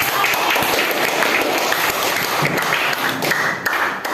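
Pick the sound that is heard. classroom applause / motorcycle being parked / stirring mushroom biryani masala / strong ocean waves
classroom applause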